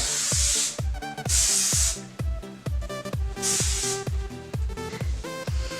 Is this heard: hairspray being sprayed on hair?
yes